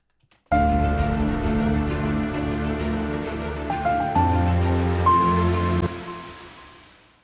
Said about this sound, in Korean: 바다 파도 소리죠.